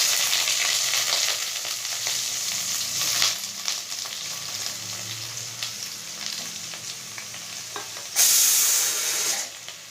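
Radish pieces frying in oil in a kadai, giving a continuous loud sizzle with stirring scrapes; the hiss surges sharply near the end as more moisture hits the hot oil.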